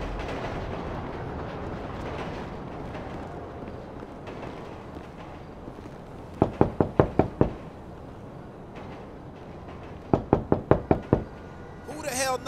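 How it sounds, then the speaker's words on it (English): Knocking on a door in two separate bursts of about six sharp raps each, close and loud over a low steady background hum. "Knocking at my door, man."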